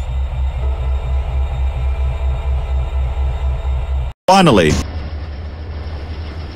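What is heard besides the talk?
freight train departing Salt Lake City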